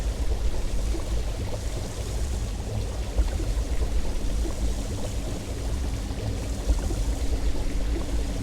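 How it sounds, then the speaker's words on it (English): Loud, constant rushing water in the DayZ video game, a dense steady roar like a stream or waterfall with no voices. "The water is very loud up here."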